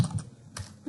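Light typing on a computer keyboard, a few quiet key clicks in a brief irregular burst, close and alone.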